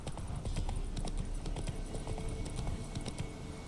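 A horse gallops in The Witcher 3, hooves striking in a fast, steady rhythm of loud clip-clops close by, with no talking over them.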